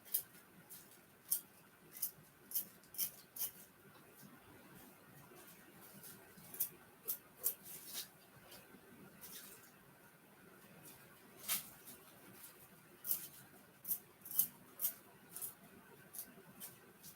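Scissors snip notches into fabric as a series of quiet, sharp clicks spaced irregularly throughout, close up with no talking.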